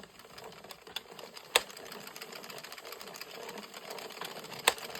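An Addi or Sentro circular knitting machine cranks through rows of yarn, giving a continuous close mechanical clatter with two sharp clicks standing out.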